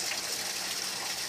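Steady broadband rush of water flowing over the Mary River weir in the middle of town, a continuous, even roar with no breaks.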